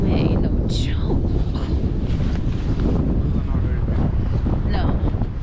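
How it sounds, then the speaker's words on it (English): Strong wind buffets the microphone at an outdoor park, a constant loud rumbling roar that runs the full length with no breaks. "This wind ain't no joke."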